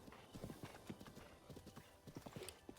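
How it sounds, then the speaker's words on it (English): Horse hooves clip-clop steadily in Breath of the Wild as the rider sets off toward a bokoblin camp, a quick repeated rhythm of muffled thuds at moderate loudness with faint game ambience behind. "So now we're gonna hop on our horse again"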